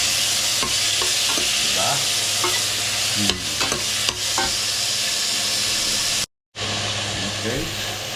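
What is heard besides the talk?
tomatoes frying with pork tail in a pan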